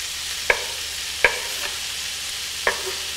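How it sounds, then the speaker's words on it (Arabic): A spoon or spatula scrapes through onions and liver frying in a pan for tacos, giving three or four sharp, separate strokes over a soft, steady background hiss. "وخلاص اقلب بس يدبل البصل شويه مع الكبده"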